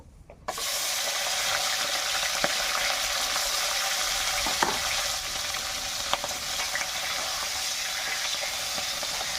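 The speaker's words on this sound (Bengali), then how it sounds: "নুন হলুদ মাখিয়ে রাখো মাছের মাথাটা আমি ভেজে নেব" Salted, turmeric-rubbed rohu fish heads dropped into hot mustard oil in a wok, an abrupt onset into a loud, steady crackling sizzle with occasional pops, close and continuous.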